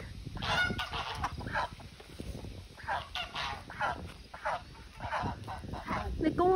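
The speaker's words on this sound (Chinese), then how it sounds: "看大鹅来了，鹅来了" Farm geese, including a newly arrived curly-feathered goose, honk in repeated loud bursts, calls overlapping and close by, with people talking underneath.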